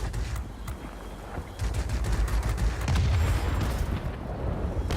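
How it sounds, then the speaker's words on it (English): Anti-aircraft flak bursting around a Tier VIII British Supermarine Seafang F.32 in World of Warplanes, a dense rumbling barrage of overlapping booms and crackles that swells louder midway, with no talking. "Boy, that flak is just eating us up."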